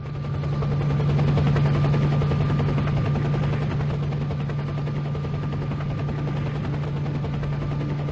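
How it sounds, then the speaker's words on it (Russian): Helicopter sound effect opening a Russian audiobook: a loud, steady rotor throb with a low hum and rapid chopping pulses, sustained throughout with no voice. "Когда вертолет заложил крутой вираж"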